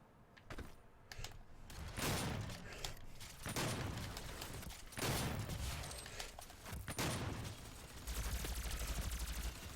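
Repeated gunfire from the player's weapon in the Doom beta video game, a steady run of sharp loud shots at irregular intervals over game sounds, with no talking.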